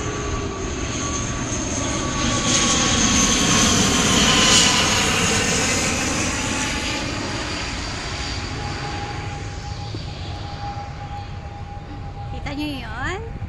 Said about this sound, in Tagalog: may aeroplano na naman.